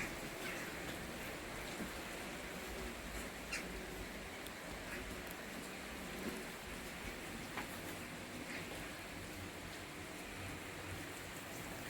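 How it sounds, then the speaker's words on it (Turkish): Steady morning rain falling in Edirne, a dense, even patter that fills the whole stretch with a constant hiss and a few brighter drops standing out, with no voices. "sabahleyin böyle yağarken yakalamışken çekeyim dedim"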